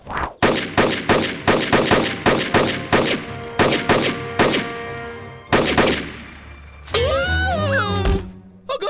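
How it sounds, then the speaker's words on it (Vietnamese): Loud cartoon gunfire from the Boonie Bears animated series rings out as a rapid string of about a dozen sharp shots with ringing tails, followed by a warbling cartoon voice sound. "Đó là tiếng súng."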